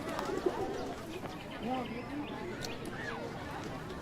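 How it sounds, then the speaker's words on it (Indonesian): Soft pigeon cooing in a quiet setting, a few low, rolling coos spread across a few seconds, faint and somewhat distant with light background noise. "Merpati."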